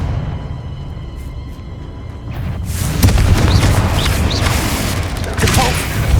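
The Confringo spell in Hogwarts Legacy bursts as a loud fiery blast, followed by a rolling run of heavy booms and crackling explosions that stay dense and forceful to the end.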